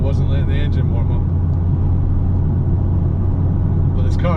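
A Ford Focus RS mk2 engine runs with a steady low droning rumble, loud and close, and a voice talks over it throughout.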